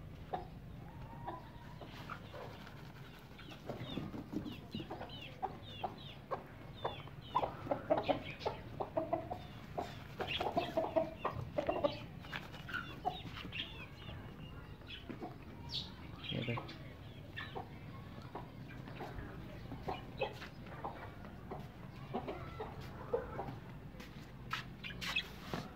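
Chickens cluck and scratch as they gather close to be fed finely chopped grass, with soft repeated clucks and rustling over a steady low background.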